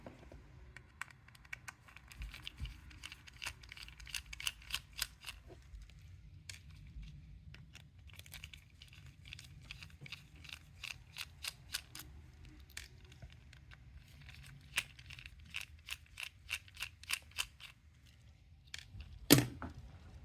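Small screws being backed out of a Logitech Harmony universal remote's plastic case, heard as quiet, close ticking and clicking bursts of a driver against plastic, repeated over several stretches with a sharper click near the end.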